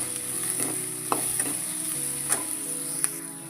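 Spices, turmeric and salt being stirred in a hot pan, a steady sizzle with soft scraping and a few light clicks of the utensil against the pan, no voices.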